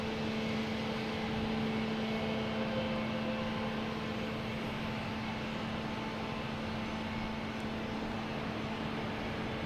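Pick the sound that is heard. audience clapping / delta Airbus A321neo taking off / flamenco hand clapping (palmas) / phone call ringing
delta Airbus A321neo taking off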